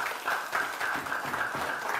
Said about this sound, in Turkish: Alkışlar nerede?